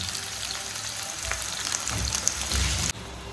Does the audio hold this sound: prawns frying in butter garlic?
yes